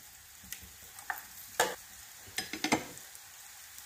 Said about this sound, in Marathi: थोडंसं तेल घालते मी बाजूने।